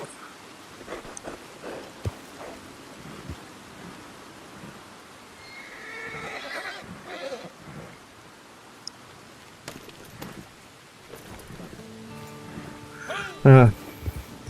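A horse in Red Dead Online snorts and shuffles quietly with soft hoof sounds, then lets out one loud, close whinny near the end. Muffled voices sit in the background.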